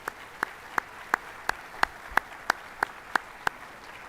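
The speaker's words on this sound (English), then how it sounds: "Please join me in a round of applause for all of the aforementioned" A single person claps slowly and steadily, about a dozen distinct, evenly spaced claps, in a quiet hall at a school's winter sports awards ceremony honoring student athletes and coaches.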